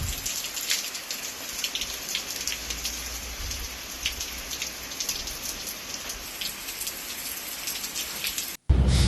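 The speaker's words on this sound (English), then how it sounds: "has brought widespread heavy rains of exceptional intensity" Heavy rain pours steadily during flash floods in Cartagena, Murcia, a dense continuous hiss of drops on surfaces with occasional patters, loud and close, before the sound cuts off abruptly near the end.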